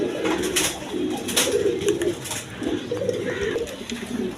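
Tulip pigeons coo at a pigeon market, a steady run of low, rolling coos close by over a busy background hum, with no clear speech.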